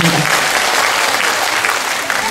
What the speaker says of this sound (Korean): 다시 한번 크게 박수 부탁드리겠습니다.